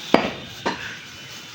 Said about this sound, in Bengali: গোস্ত কাটছে।